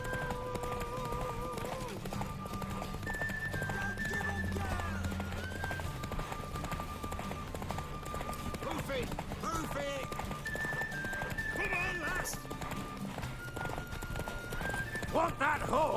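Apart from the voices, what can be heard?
horse galloping in the video game The Witcher 3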